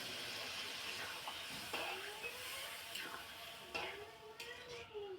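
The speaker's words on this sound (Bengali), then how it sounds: "এখন আমি জলটা দিয়ে দিব" Beef tripe curry sizzles steadily in a pan as water goes in, with a spoon scraping and stirring through it in a few distinct strokes, close and continuous with no talking.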